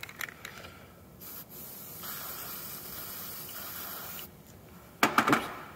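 Several bursts of hissing aerosol dye penetrant spray for crack detection, a few short and one long steady stretch, ending with some rattling handling noise up close.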